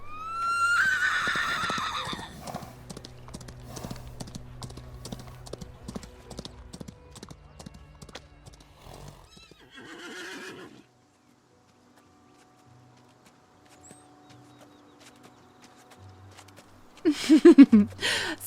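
Horse riding effect in a fantasy audio drama: a horse whinnies, then steady clip-clop hoofbeats trot and fade into quiet, ending with another loud neigh close by.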